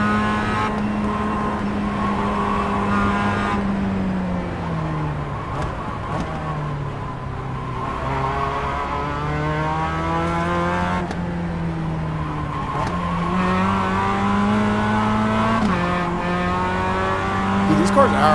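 Race cars in the iRacing sim drone and whine through rising and falling gear changes, engines climbing in pitch then dropping with each shift, loud and continuous with a faint tyre squeal mixed in.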